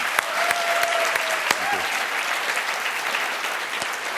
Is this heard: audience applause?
yes